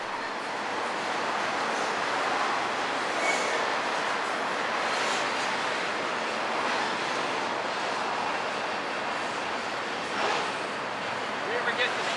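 A BNSF or Union Pacific freight train rolls past along Puget Sound, a steady broadband rumble and rush that holds evenly for the whole stretch, with voices talking faintly over it.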